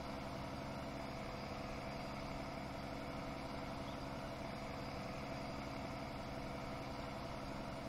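Steady, low diesel rumble of a Peterbilt truck engine idling in Farming Simulator 19, a constant, unvarying drone heard alone and fairly quiet with no pauses.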